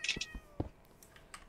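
Several short cat meows from the Minecraft video game, a quick cluster of bright calls at the start and fainter ones trailing after, close by and on their own with no talk over them.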